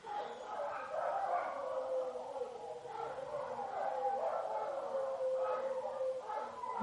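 Several dogs barking and howling outside, a mix of yaps, howls and whimpers rising and falling at a middle distance, with faint background noise but no clear talk.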